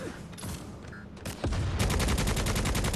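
Gunfire in the Necromunda Hired Gun video game: a few scattered shots, then a loud, steady burst of rapid automatic fire in an even rhythm, up close and with no talking.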